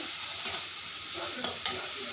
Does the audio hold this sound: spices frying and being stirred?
yes